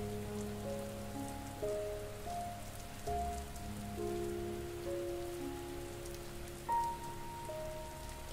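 Steady rain patters evenly on a surface in a continuous soft wash, with gentle sustained musical tones playing underneath and no voices.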